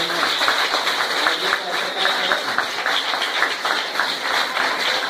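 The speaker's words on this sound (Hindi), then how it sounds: "आइए हम सबको तालियां बजाएं." Dense, steady audience applause at a Mumbai Urdu high school event in Andheri West, many hands clapping continuously and close throughout the whole stretch, with no pause.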